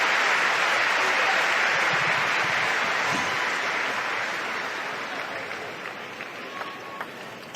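A table tennis crowd at the 2017 world championships breaks into loud, sustained applause that slowly fades, with cheering voices mixed into the clapping.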